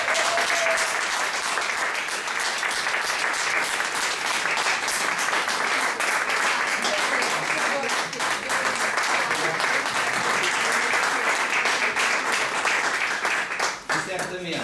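A standing ovation for Nuno Faria at a Portuguese talk, with sustained, dense applause from a large audience that holds at a steady level throughout, a few voices mixed in, and a sudden drop near the end.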